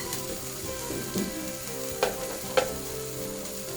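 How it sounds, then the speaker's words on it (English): Corn and black bean cakes frying in a pan until crisp, a low steady sizzle with a few soft clinks and bumps, moderately quiet and without voices. "So you just give your cakes about 3 or 4 minutes, or until they're crispy on one side."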